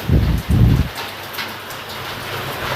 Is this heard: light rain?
yes